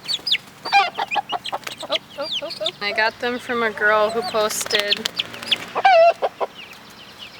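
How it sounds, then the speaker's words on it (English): Chickens, including meat birds, cluck and squawk loudly and repeatedly, close by, while a person speaks over the flock. "The other chickens are, I don't know if they're mad or what."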